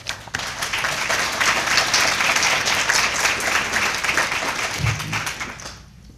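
Sustained applause from an awards banquet audience fills the room, steady and dense for several seconds before tapering off at the end.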